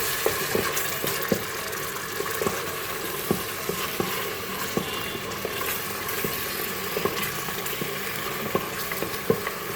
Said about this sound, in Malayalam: ഇനി ഇത് നമുക്ക് നല്ലപോലെ ഒന്ന് മിക്സ് ചെയ്യാം